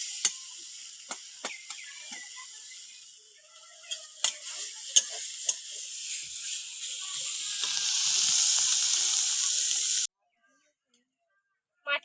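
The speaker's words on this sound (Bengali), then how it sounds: "পোড়া শাক ভাজা হয়ে গিয়েছে দেখুন" Matifora greens fried and stirred in a pan give a soft continuous sizzle with scattered sharp clicks of a spatula against the pan, growing slightly louder before cutting off abruptly.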